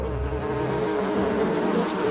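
A dense swarm of bees hums steadily and loudly, many wings blending into one continuous close drone with no talking.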